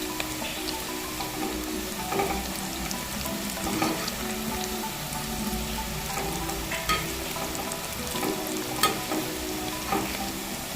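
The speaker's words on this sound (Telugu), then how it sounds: "నూనె వేడిగా అయ్యాక ఇలా ఒక్కొక్కటిగా నూనెలో వేసుకోవాలి." Cauliflower pakodi (gobi fritters) sizzling and crackling in hot oil, a steady dense frying hiss with occasional sharper pops and stirring bursts, close and continuous with no voices.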